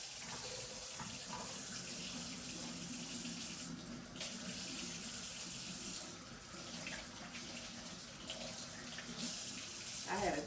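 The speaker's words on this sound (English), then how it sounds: "Let me wash my hands and get to it." Hands washed under a running kitchen tap, a continuous close hiss and splash of water filling and spattering in the sink for the whole stretch, steady with small shifts in flow as hands move through it.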